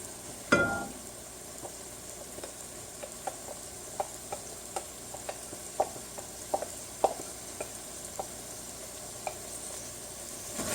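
Bell peppers and onions sizzle in a pan of chicken curry while a spoon stirs them, with a steady frying hiss and irregular scraping taps close by.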